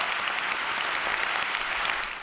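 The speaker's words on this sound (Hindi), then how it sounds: "इसके लिए आप लोग तालियां बजाइए।" Audience at a political speech breaking into applause, a steady, dense patter of many hands clapping, moderately loud and continuous, tapering slightly at the end.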